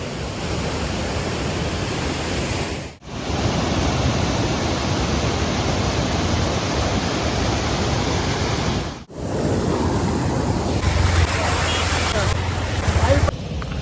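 Heavy water pours through the Singanamala reservoir as a steady, loud, broadband roar, like a full outflow over a dam. It is briefly cut twice, then resumes at the same strength.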